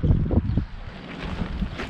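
Wind gusting outdoors beside a 53-foot tandem flatbed truck load, making steady low rumbling buffeting against the microphone, with a few stronger gusts early on and no talking.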